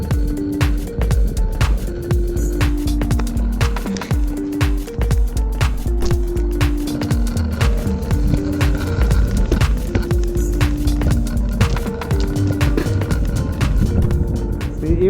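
A Meepo Cyclone electric skateboard on airless rubber 110mm wheels rolls steadily over pavement, a constant rumbling drone broken by frequent sharp clicks and bumps from the surface, loud and close throughout.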